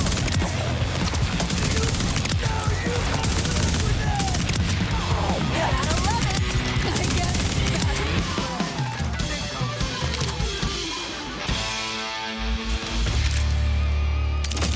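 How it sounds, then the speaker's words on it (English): Borderlands 4 combat with an SMG firing in shotgun mode among crashing impacts and battle effects. Chaotic volleys run almost without a break, with a brief lull near the end. "Made a whole deal about using the shotgun mode on that SMG"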